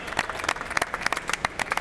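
Sparse, distinct hand claps from a small group applauding a LEGO build at a building competition, individual claps audible at a moderate level without talk.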